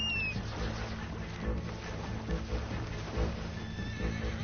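In Red Dead Online, a horse whinnies close by at the start, and then its hooves clop over low rumbling game ambience.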